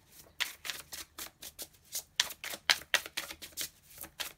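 Tarot cards being shuffled and drawn during a love reading, a run of quick papery riffles and flicks in uneven bursts, close and fairly soft, with no voices.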